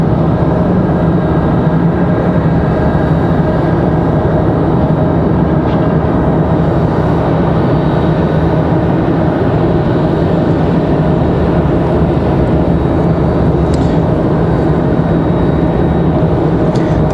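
An American Airlines jet bound for Charlotte departs Raleigh-Durham International, a loud, steady broadband engine roar holding throughout with no talk.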